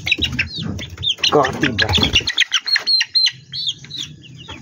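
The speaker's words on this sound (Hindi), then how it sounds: "ये देखो जैसी आवाज़ें निकालते हैं ना चूजे" High, thin chirps and peeps from small birds, repeated in quick bursts, with someone talking over the first half and the chirping continuing alone afterward.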